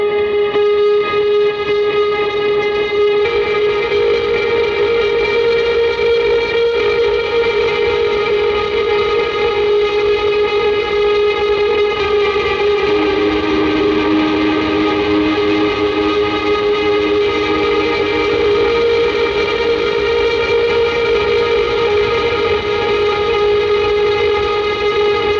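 An electric guitar picking steady sixteenth notes through an H90 ambient reverb, forming a sustained shimmering wash of layered tones with distortion and chorus, continuous and loud without speech.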